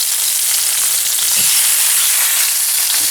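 Quail pieces sear in hot oil in a pan, giving a loud, steady, hissing sizzle that stays constant close up, broken briefly by a soft clink.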